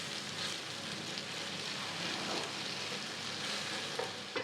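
Pike fillet pieces sizzle steadily in clarified butter in a pan, a continuous close frying crackle with small pops near the end and no talking.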